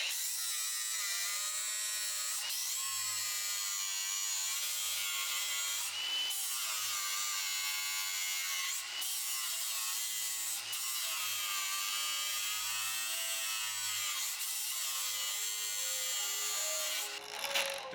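Power drill boring holes during a car widebody install, a loud, continuous high-pitched whine with slight pitch wavering and brief dips, running almost nonstop before cutting off at the end.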